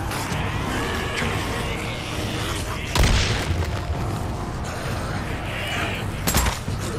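A pipe bomb goes off in Days Gone, a sharp, loud boom cutting through a constant rumble of game ambience, with a second smaller blast a few seconds later and someone talking intermittently over it.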